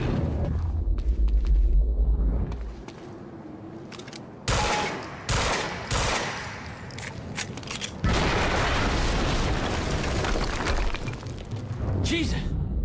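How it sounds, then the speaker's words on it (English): In the video game Quantum Break, a heavy rumbling explosion is followed by several sharp blasts and crackling debris, loud and close, with voices speaking over parts of it. "HQ, we just heard an explosion near the harvesting perimeter"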